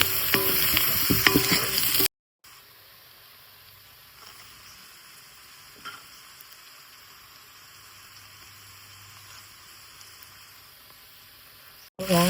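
Chopped onions are frying in oil in a pan for a village-style Konkani jackfruit curry. After a loud, busy opening, a low, steady sizzle runs quietly underneath, with a few faint clicks.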